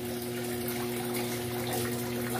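Steady rushing water pours continuously into an Electrolux 8 kg washing machine as it fills, with a constant close hiss and low hum and no talk.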